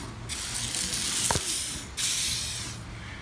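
An aerosol can sprays in long hissing bursts close by into an RV slide-out during maintenance, with a brief mechanical click partway through and a short pause between sprays.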